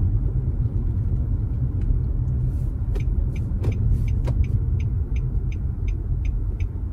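Steady traffic rumbles along the main street of a small Ontario town, continuous car and engine noise close by with faint clicks and rattles over it, no talk.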